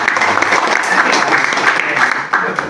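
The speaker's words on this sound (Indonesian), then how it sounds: "Tepuk tangan dong untuk tim Bogor." A crowd claps steadily throughout, a dense wash of applause at moderate loudness with no voices standing out.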